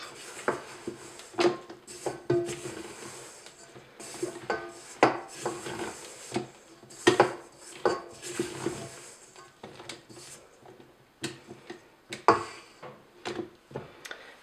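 A spatula scrapes around a mixing bowl of cupcake batter for eggnog cupcakes, giving repeated short rasping strokes in an irregular rhythm, close and moderately loud, with no talking.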